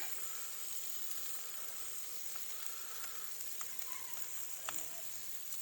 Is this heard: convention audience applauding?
no